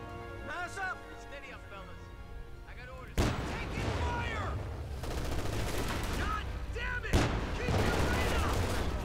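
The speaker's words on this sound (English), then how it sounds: "firing on the machine gun" Machine gun fire in the strategy game Company of Heroes 2, bursts of sharp reports and a booming blast amid battle noise, mostly under a commentator's talk.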